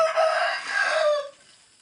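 A rooster crows loudly and close on a farm, one long drawn-out call that fades near the end, with chickens around.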